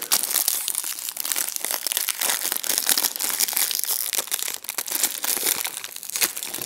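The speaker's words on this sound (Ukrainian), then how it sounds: "в сторону відкриваємо ось такий у нас пакетик" Crisp, steady crinkling of a plastic packet from a DT-838 multimeter being opened, close up, with irregular rustles and crackles running throughout and no talking.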